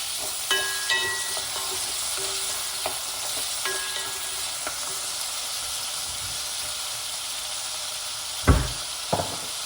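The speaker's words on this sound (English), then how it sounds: "Burn off some garlic." Garlic sizzles and fries steadily in a hot pan, a continuous close hiss with a few stirring knocks and a sharper clatter near the end, no voices.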